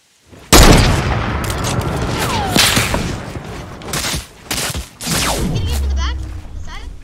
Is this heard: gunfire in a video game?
yes